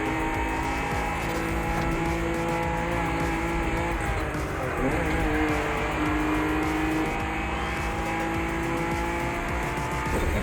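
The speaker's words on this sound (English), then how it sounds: "this is supposed to be a sports car, and I'm struggling to hit 90 miles per hour" An older sports car from the video game The Crew Motorfest drives at speed, its engine droning steadily with tire noise and a brief scrape or squeal near the middle.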